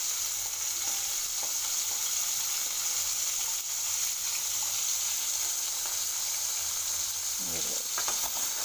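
Curry masala for a puri and chapati side dish sizzles and fries steadily in a pan, a constant bright hiss with occasional scraping stirs near the end; no one speaks.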